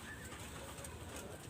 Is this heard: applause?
no